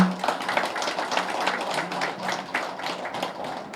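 An audience at a spiritual gathering claps together in a sustained round of applause, many hands beating in a dense patter that stays fairly close and even throughout.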